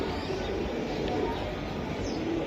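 Golla pigeons cooing close by in a loft, low soft murmuring coos over a busy background with a few faint chirps, over roughly two and a half seconds.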